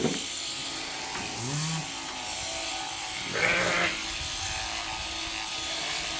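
Jacob sheep bleat on a cold shearing day, a few short calls heard over a steady electric shearing-clipper buzz, with a louder, closer bleat partway through.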